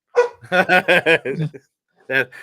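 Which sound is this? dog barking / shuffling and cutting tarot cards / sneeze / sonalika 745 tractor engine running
dog barking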